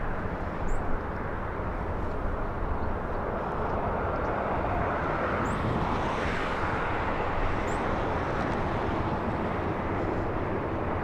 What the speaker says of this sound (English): We have a 767 that pushed back from Terminal 2